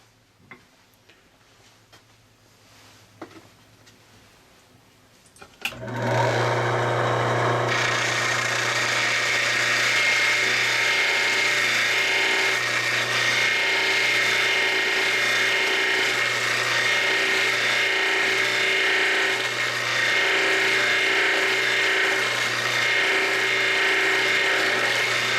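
A carborundum marble grinding cup machine starts up after a few quiet taps and then runs with a loud, steady motor hum and a rhythmic grinding pulse for the rest of the clip.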